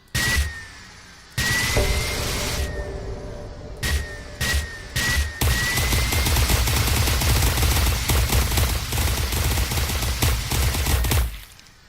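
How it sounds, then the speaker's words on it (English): Machine guns fire in LoD, starting with a few short bursts and building into a loud, sustained rapid stream of shots with whooshing projectiles, heard close and alone. "that's just a few of the machine guns"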